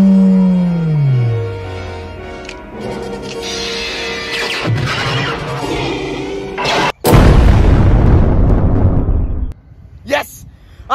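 A loud booming blast from a tactical nuke bursts in after a sliding tone and clattering effects, roaring for a couple of seconds before cutting off, with voices talking around it.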